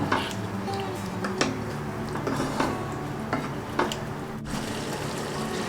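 Chicken curry with cashew paste being slowly stirred and fried in a pan over low heat: a steady soft sizzle with occasional scrapes and clinks of a spoon against the metal, close by, with no talking.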